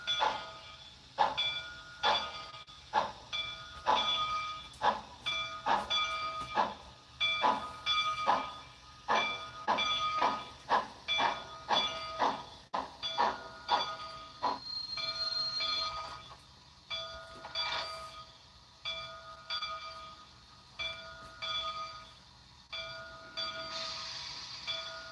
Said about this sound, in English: that's probably enough bell